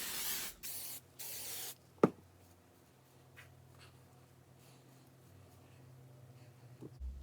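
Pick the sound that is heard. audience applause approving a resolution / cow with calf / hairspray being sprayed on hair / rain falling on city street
hairspray being sprayed on hair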